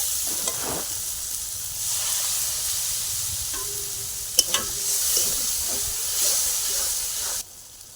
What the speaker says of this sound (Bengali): পরিমাণ মতো হলুদ, ধনে জিরে গুঁড়ো আর নুন দিয়ে ভালো করে কষিয়ে নেব।